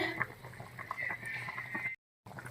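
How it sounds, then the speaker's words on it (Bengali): Chicken curry in a pot simmers with soft, continuous bubbling and faint popping, fairly quiet and close, broken by a brief moment of silence. "তরকারি বন্ধু এখনো হয়নি তো ফুটছে"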